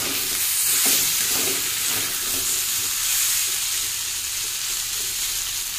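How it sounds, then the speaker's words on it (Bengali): Tomato, potato and taro sautéing with garlic in a pan make a steady, close sizzling hiss, with a few soft stirring scrapes early on and no talking. "এখানে আমি টমেটো, আলু, কচুরমুখী ভালো করে কষাই করে নিচ্ছি, আর একটু রসুন দিলাম"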